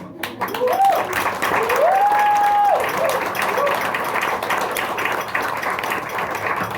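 A comedy open mic crowd applauds a comedian, a dense wash of clapping that stays steady for several seconds while a brief whistle rises over it and a voice speaks above the noise.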